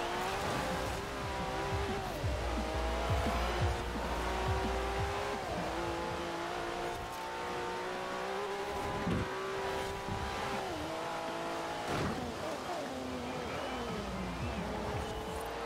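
A Porsche 911 road car races on a wet track in Forza Horizon 4, its engine droning steadily and rising and falling through gear changes, with occasional tire noise and a faint voice talking underneath.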